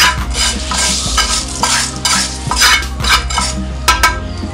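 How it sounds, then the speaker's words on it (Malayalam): A spoon scrapes and clinks against a metal pot while roasted coconut is stirred into a thick kootu curry, with faint sizzling underneath; no voices. "ഇത് നന്നായി മിക്സ് ചെയ്യാം"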